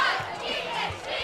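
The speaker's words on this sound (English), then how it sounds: "Trojans sideline try to get the crowd pumped up" A football crowd at a Girard Trojans versus Colgan Panthers high school game cheers and chatters, a broad, steady roar from the stands as the Trojans sideline works to pump them up, with a voice speaking over it.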